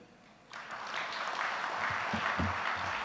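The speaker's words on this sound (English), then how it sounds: "Let's appreciate him one more time with a beautiful round of applause." Applause from a dinner audience at a corporate launch event, starting abruptly and swelling into steady, dense clapping that continues throughout.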